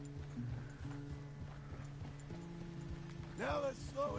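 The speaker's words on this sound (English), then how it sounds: "Even though for my horse, it's a fucking trot." A horse's hooves clip-clop at a steady trot in Red Dead Redemption 2, a regular rhythm under game music, with a brief whinny near the end.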